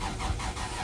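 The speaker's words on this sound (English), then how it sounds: "I'll attempt to start her up for you guys" Engine of a project car cranking and catching to start, a brief rough mechanical churn heard up close and fairly loud with no talking.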